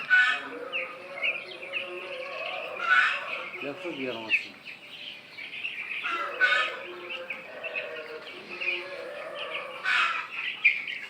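Broiler and local chickens cluck and squawk repeatedly in a busy coop, with overlapping calls rising and falling over a steady background.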